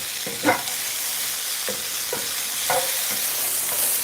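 Chinese long beans and tomatoes stir-fried in a hot pan give a soft, continuous sizzle, broken by a few distinct scrapes and tosses of the spatula at a close distance.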